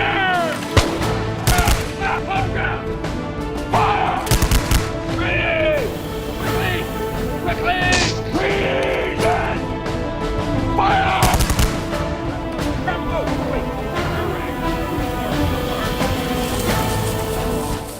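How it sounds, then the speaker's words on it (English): Musket fire crackles continuously as both sides shoot at will in an American Revolution skirmish: dense, overlapping loud reports amid shouting and other battle noise. "both sides commenced firing at will"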